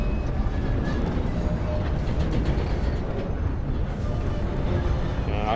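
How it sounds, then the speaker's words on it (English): Train rolling along in Red Dead Online, a loud continuous rumble with rattling wheel-on-track noise and faint higher squeals, steady throughout with no voices. "we're just riding around on the train right now"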